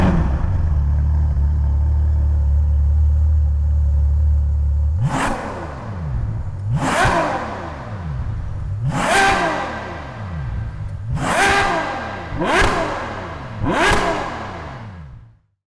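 A Ferrari 812 Superfast V12 idles with a deep burble, then revs sharply six times in quick succession, each blip climbing high and falling back, loud and close with no voices.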